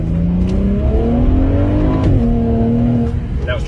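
A 2012 BMW 135i accelerates hard from inside the cabin, a loud rising engine drone whose pitch climbs, dips as traction control cuts in, then climbs again.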